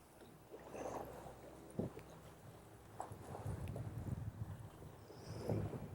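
Wind blowing across a lake during fall fishing from a boat, a soft steady buffeting rush with gusty swells and faint knocks, fairly quiet throughout with no talking.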